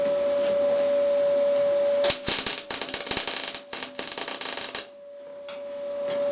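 Wire-feed welder laying hot arc bursts onto a broken wheel stud, a loud crackling, sputtering run of about three seconds with short gaps, set against a steady machine hum that continues before and after.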